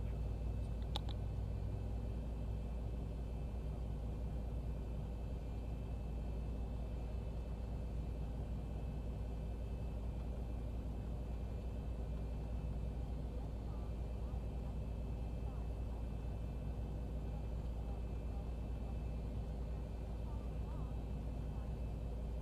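A Boeing 737 (Zibo Mod) airliner taxis to the gate in a flight simulator, with a steady low engine drone and a thin tonal whine running unbroken throughout, no voices.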